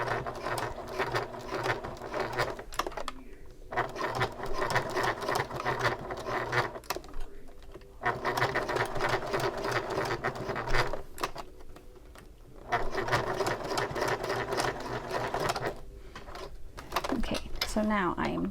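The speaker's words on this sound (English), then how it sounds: "I'm going to go back to my Teflon foot for this. I'll sew just a little box." A sewing machine with a Teflon foot stitches a small reinforcing box on a convertible bag, running in steady mechanical bursts separated by brief pauses, close and moderately quiet.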